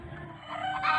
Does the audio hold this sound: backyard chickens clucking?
yes